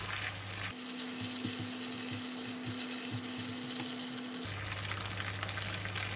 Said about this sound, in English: Continue to stir until the red curry paste and the kaffir lime leaves release a nice aroma.